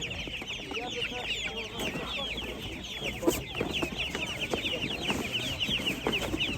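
A steady racket of clucking hens and ducks fills a poultry stall at an outdoor animal market in Kolomyia, Ukraine, heard close and constant with voices mixed in.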